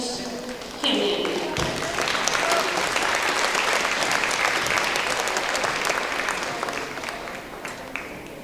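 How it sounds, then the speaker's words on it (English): Audience at a school gala applauds Knowledge Bowl award winners, a sustained wash of many hands clapping at moderate distance that swells quickly, holds for several seconds, then gradually fades. "Again, that is our Knowledge Bowl. They placed Catherine Chapman, again, round of applause"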